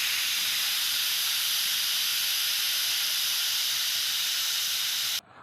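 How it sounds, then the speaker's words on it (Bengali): A pressure cooker cooking potato curry on a village kitchen stove lets off a loud, steady steam whistle, a sustained hissing jet lasting several seconds before it cuts off abruptly. "প্রেসার কুকারে আমি তরকারিটা বসিয়েছি, তো এখন কিছু হচ্ছে সিটি নিয়ে নেবো"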